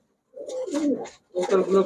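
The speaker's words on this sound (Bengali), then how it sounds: "দর্শক দেখেন প্রতিটা কবুতর মাসাল্লাহ" Two short bursts of soft, rolling coos from Giribaz pigeons at a pigeon shop, near and fairly clear, with a brief pause between them.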